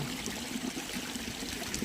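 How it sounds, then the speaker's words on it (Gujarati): Steady irrigation water running through a sugarcane field fills the clip, a continuous close trickling rush with no voices. "પાણી ચાલુ છે"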